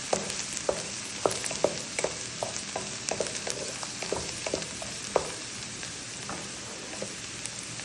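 Onion and lemon sizzle softly in a frying pan while being stirred, with scattered spatula clicks and taps over a steady, quiet crackle.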